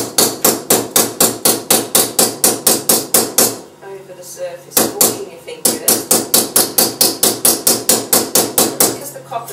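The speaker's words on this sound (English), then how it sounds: "using the nylon mallet, just hammer" A nylon mallet hammers thin, soft annealed copper jewellery in quick, steady runs of sharp taps, pausing briefly midway, with a voice speaking over the strikes.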